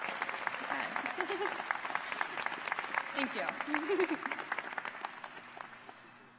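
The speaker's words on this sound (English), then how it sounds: "you can clap a little bit" Graduation audience clapping and light cheering at a civil and environmental engineering ceremony, a crowd applauding steadily and tapering off toward the end, with a speaker's voice briefly over the applause.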